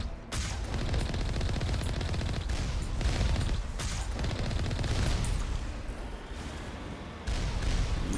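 Automated turrets fire nonstop in Mass Effect Legendary Edition, a dense, loud fusillade of rapid gunshots and blasts with only brief dips in intensity.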